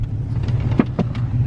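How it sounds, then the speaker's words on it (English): Constant low rumble of a car's interior while driving, close and steady, with a couple of faint knocks and no voices. "We're in the car."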